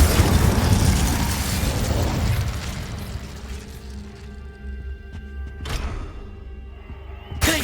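A fire spell cast in Hogwarts Legacy bursts out as a loud whooshing blast with a rumbling crackle that fades over several seconds, followed by a couple of sharper magical pops near the end.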